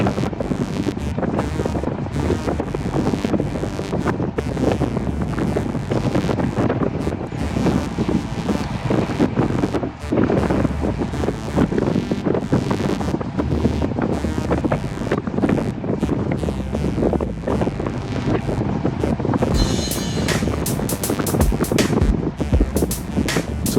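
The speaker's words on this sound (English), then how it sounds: "when we turned on this road, the wind really picked up" Strong wind roars and buffets across an exposed road while cycling, a loud, continuous, rough rush of air with no talking.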